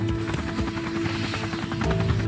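Navy helicopter with a steady droning rotor hum and rhythmic blade chop, fairly close and continuous for a couple of seconds, with no speech.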